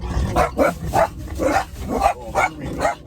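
Several dogs barking excitedly at a roadside as a group of motorcycles passes nearby, loud repeated barks in an uneven rhythm with engine rumble underneath.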